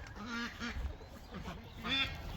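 White Pekin ducks quack on a homestead in a run of repeated, moderately close calls over steady outdoor background noise.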